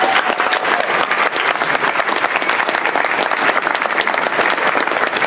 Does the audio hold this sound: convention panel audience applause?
yes